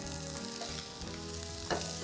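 Green beans stir-frying in a hot pan for a Kerala beans thoran, with a steady dense sizzle and a sharper scrape of stirring near the end, no voices.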